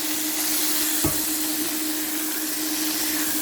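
Veal chop frying in a hot pan, a steady close sizzle and crackling hiss running throughout, with a brief knock partway through and no talking.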